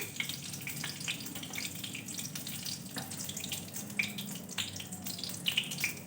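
Black cumin seeds fry in two spoons of hot oil in a preheated wok, giving a steady close-up crackling sizzle with scattered sharp pops and no voices.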